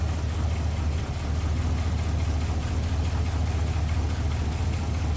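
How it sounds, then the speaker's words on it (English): A 1950 Oldsmobile 88 convertible with its Rocket V8 idles smoothly and steadily, a close, continuous low rumble with an even pulse and no voices over it. "Very smooth running engine, as you can see and hear."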